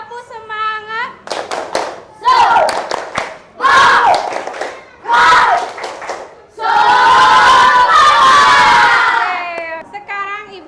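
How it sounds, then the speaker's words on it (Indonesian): Schoolchildren in a classroom perform a spirit clap chant, tepuk semangat. Loud group shouts alternate with rhythmic bursts of clapping, and a long cheering chant closes the sequence. "Coba tepuk semangat dulu. Tepuk semangat."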